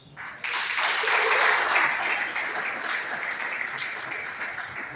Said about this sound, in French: Est-ce que ça va demander un petit applaudissement?